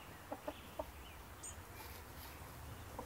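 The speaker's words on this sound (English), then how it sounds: "Chickens." A few soft, short clucks from chickens early on, faint and somewhat distant over a low background hum, followed by quieter ambient noise.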